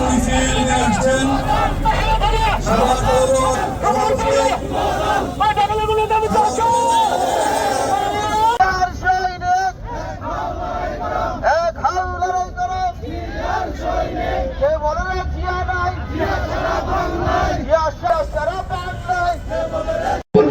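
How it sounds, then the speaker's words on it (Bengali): A large rally procession crowd in Savar, Bangladesh, chanting slogans loudly and continuously, with dense babble and shouting throughout. "একটি বিশাল মিছিল নিয়ে আসছেন"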